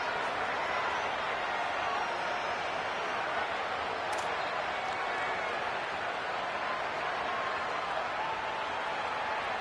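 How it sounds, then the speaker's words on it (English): Home crowd at a football game late in the contest, booing its own team: a steady, broad wash of stadium crowd noise holds at an even level throughout. "you can start to hear some of the boo birds coming out from this home crowd"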